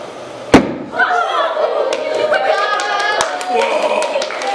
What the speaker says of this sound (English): This is a controlled explosion.